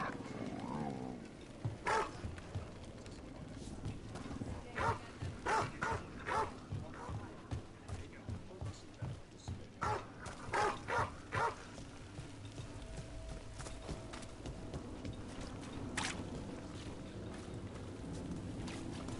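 Dogs bark in Dragon Age The Veilguard, a rapid string of sharp, fairly loud barks over a low ambient background, fading into scattered calls, with no voices over them.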